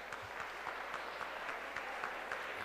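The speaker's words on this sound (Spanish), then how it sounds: "Un aplauso por favor para todos ellos." An audience at a parliamentary debate between competing teams claps steadily, a dense even patter of many hands at moderate distance, without voices.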